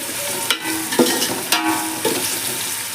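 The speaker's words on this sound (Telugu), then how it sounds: "ఉల్లిపాయలు వేగుతాయండి, ఒక 4-5 నిమిషాల్లో పచ్చి వేగుతుంది." Onions frying in salted oil in a pan give a steady broadband sizzle, with several soft stirring scrapes punctuating it at regular intervals; no voices.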